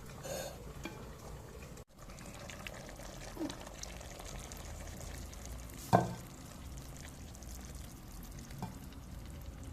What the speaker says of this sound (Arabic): نحركوه شويه كيما هكا بالمغرفه